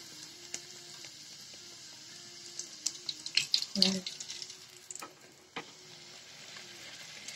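Peas frying in hot oil for kachari give a faint, quiet sizzle with scattered crackles and spattering pops, clustering into a brief louder burst midway.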